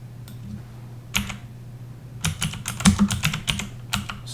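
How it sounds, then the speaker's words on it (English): Irregular bursts of clicking keystrokes on a computer keyboard, close and fairly loud, with a pause before a faster run of taps over a steady low hum. "Sometimes when I'm typing stuff here, you can't see it actually being typed"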